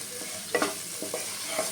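Spices for a taro curry are stirred and fried in a pan, with Kashmiri chilli powder, dry chilli powder and green chillies in the mix. A soft sizzle runs under a few scraping strokes of the spoon, with no voices.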